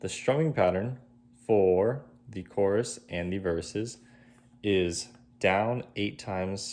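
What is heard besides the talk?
No everyday noise stands out behind the speech.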